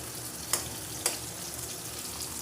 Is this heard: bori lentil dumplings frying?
yes